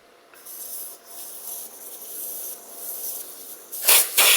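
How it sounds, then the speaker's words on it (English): Air hissing out of the front tire inner tube of a 2009 Kawasaki KLR 650 motorcycle after the valve core is pulled, a steady close rushing hiss that wavers in strength and ends in two louder, harsher bursts. "The air will now escape from the tube"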